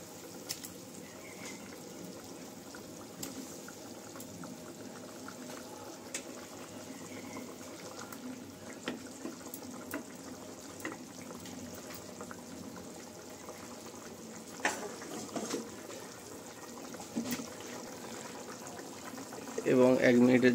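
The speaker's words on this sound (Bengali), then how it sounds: "ফুটে গেছে দেখতে পাচ্ছেন।" Mustard sauce for hilsa fish bubbles steadily in a pan on the stove, a soft, continuous boiling patter with faint pops, ending with a louder clatter, and a voice speaks at times.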